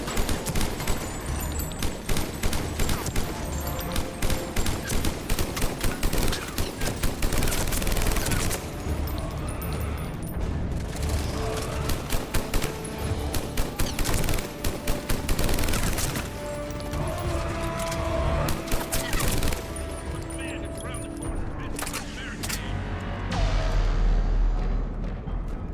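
Loud, dense gunfire in Mass Effect 3 Legendary Edition: rapid automatic bursts and volleys come almost nonstop, punctuated by heavier crashes and booms, with brief lulls between bursts.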